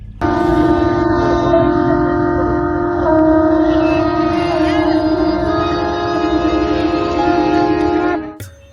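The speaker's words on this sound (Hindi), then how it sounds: "जब हम वहां पहुंचे तब हुआ शंखनाद।" A conch shell is blown at the Ganga aarti on the riverbank in Banaras, producing one long, loud, steady blast that holds for about eight seconds over a faint crowd murmur.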